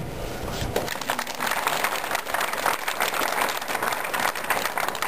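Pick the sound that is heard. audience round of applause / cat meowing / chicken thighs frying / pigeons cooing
audience round of applause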